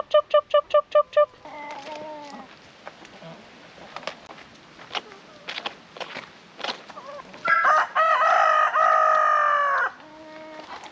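Backyard chickens and a rooster in tropical Far North Queensland, Australia: a quick run of clucks opens, then scattered clucking, and a loud, close rooster crow rises near the end over steady background.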